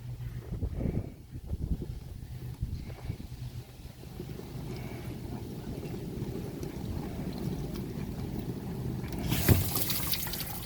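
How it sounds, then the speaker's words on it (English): Bosch dishwasher's bottom wash arm spraying water inside the tub, a steady close rushing and splashing wash with a brief louder burst near the end. "Let's try to wash that bottom wash arm."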